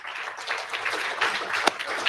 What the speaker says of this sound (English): give yourselves a round of applause for just being here tonight